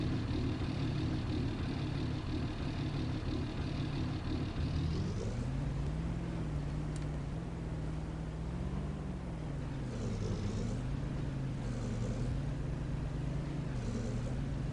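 A GMG off-road truck climbs a rock obstacle on a Kubota-built test course, its engine droning steadily close by, then the pitch rises and falls as it revs and labors up the rocks, with no talking.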